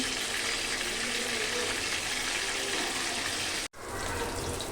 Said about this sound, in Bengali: একদম হালকা ভাজবো মাছগুলো